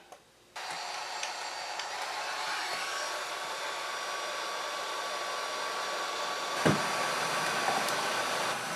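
A heat gun blows steadily to shrink glue-lined heat shrink tubing over a wire splice during trailer brake wiring, a loud continuous roaring hiss starting abruptly after a brief pause and running unbroken with one small knock.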